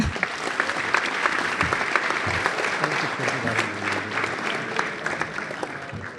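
An audience at a theatre festival applauds warmly, a dense, steady burst of clapping from many hands that carries on evenly for several seconds.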